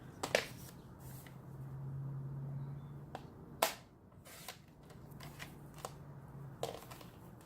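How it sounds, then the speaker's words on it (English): Crisp, sharp cutting snaps from a paper trimmer slicing through card for a handmade chevron card, several quick close clicks and swipes spread across a quiet room with a faint low hum beneath. "trim it down with my trimmer"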